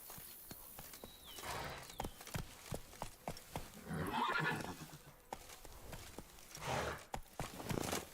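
Geralt's horse Roach in The Witcher 3 neighs and whinnies while hooves clip-clop in a steady rhythm, fairly faint, with a few loud snorting bursts over a quiet game background.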